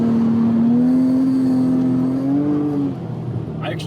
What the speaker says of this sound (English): I actually think the car sounds very unique still.